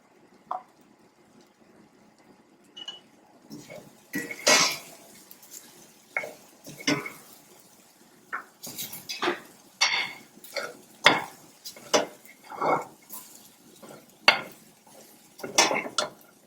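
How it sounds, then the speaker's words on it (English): A spoon stirs cheese into a quinoa stuffing mixture in a pan, giving repeated scraping and clinking strokes in an uneven rhythm that grows busier and louder after the first few seconds. "So we're going to add half of the cheese. We're going to mix it in quickly"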